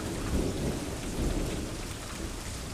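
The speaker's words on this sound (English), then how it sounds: "This is a hell of a storm." A heavy thunderstorm in Wyoming, with steady loud rain and deep rolling thunder rumbling continuously underneath, close and enveloping throughout.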